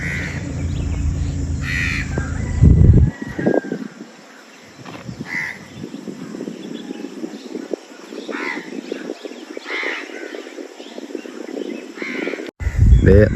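Crows caw repeatedly, some near and some farther off, over an open overcast morning view toward distant resorts, with a person speaking intermittently and a few other birds calling in the background.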